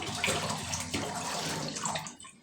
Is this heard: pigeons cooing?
no